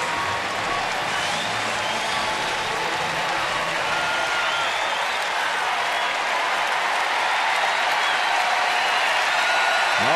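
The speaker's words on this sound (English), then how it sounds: "All of a sudden, the crowd is into this baseball game. We love it when they cheer for what's about to happen." A baseball stadium crowd applauds and cheers during a night game, a dense, continuous roar of clapping and voices that holds steady and slowly swells over ten seconds.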